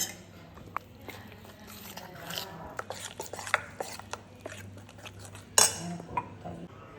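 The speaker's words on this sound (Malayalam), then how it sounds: "അപ്പോൾ ഇതാ നമ്മളിതാ മൈദ നല്ലോണം കലക്കി എടുത്തിട്ടുണ്ട്." A spoon stirs maida flour batter in a bowl for chicken rolls, giving scattered metallic clinks and scrapes at an uneven pace, moderately loud and close, with no talking.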